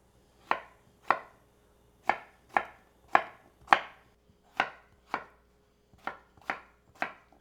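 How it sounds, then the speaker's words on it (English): A knife dices Yukon Gold potatoes on a cutting board, about a dozen crisp, evenly spaced chops that ring out clearly in a quiet kitchen. "Now I'm just going to dice them up."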